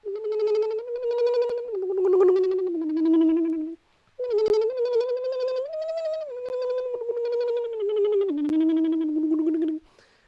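A beatboxer's voice imitates a plucked koto with bright, twangy, pitched notes in a melodic phrase, pausing once before a second run of sliding, resonant tones, close and loud with no other sounds.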